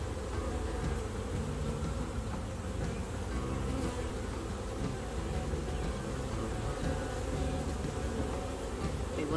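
A honey bee swarm gathered in a tree drones with a dense, steady buzz that fills the whole stretch, loud and close with no pauses and no voices.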